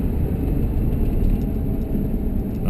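A 1966 Ford Mustang coupe swings through a slow U-turn, its steady engine and road rumble heard from inside the car, constant and unbroken with no talking.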